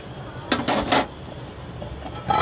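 A lid set down over a pot of rice cooking in a home kitchen, giving a few bright metallic clanks in quick succession, close and fairly loud, then a quieter single clink.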